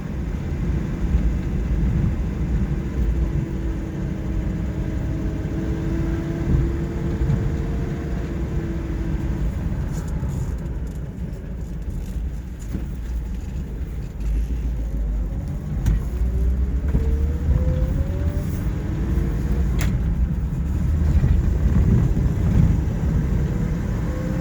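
A 1941 Buick Super 56C convertible drives steadily with a continuous low engine note that rises and falls through gear changes, a constant road rumble throughout.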